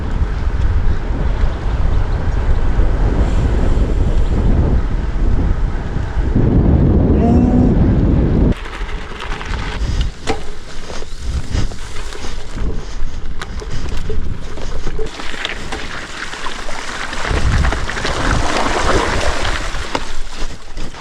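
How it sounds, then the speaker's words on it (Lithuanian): Strong wind buffets a cyclist riding through a countryside village, a loud, continuous roar of gusts hitting the microphone with surging swells and no speech. "Vau, kaip pučia vėjas."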